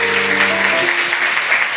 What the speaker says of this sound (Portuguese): e pode aplaudir o Senhor.